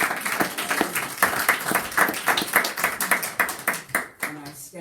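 A crowd applauding warmly, dense overlapping claps sustained for several seconds before tapering off, close and fairly loud.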